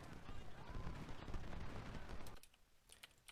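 Massed musket volleys and artillery fire from a Civil War battle at Cedar Mountain in Ultimate General: Civil War, a dense crackling barrage that cuts off abruptly partway through, leaving a few scattered distant shots.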